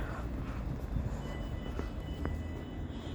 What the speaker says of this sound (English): we've got a freight train coming through now